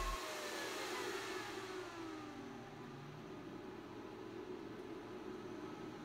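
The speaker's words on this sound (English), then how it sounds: "Listen to the fans adjust their speed to compensate for the heat." Cooling fans on an AntMiner S9 bitcoin miner drawing around 1500 watts whir in a steady airy hum that drops slightly in level partway through, then holds, with no one talking.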